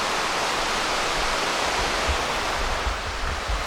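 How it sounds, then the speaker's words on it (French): Cascade du Voile de la Mariée, a mountain waterfall at the start of an alpine hiking trail, roars as a dense, constant broadband rush of falling water, loud and close, with no break. "on a la cascade qui est sur le départ de la rando. C'est la cascade du voile de la Mariée"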